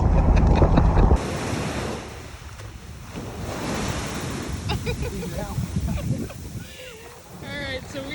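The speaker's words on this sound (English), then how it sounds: "Alright, so we are on the beach." Surf rolling onto the beach just south of Point Mugu in Ventura County, California, a steady broadband wash with wind buffeting the microphone at the start and faint voices and bird chirps near the end.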